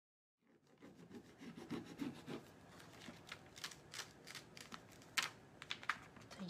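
Craft medium being rubbed by hand onto a tapestry project, soft close scratchy rubbing strokes in an uneven rhythm, quiet with no talking.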